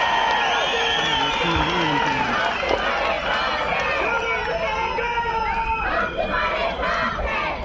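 A large crowd at a political rally in Kishtwar claps and cheers loudly and continuously, with many voices shouting over the applause.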